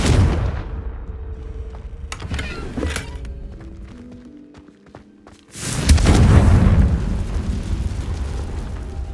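Confringo blasting spell in Hogwarts Legacy, a deep booming explosion with crackling debris, then after a quieter stretch a second heavy blast rumbles out and lingers.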